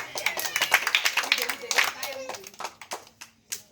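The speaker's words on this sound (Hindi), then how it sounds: "1 2 3 ताली बजा दो एक बार सब लोग" Audience in a village street show with a performer claps in a burst of uneven, fairly close hand claps, with children's voices and chatter mixed in and the clapping thinning out toward the end.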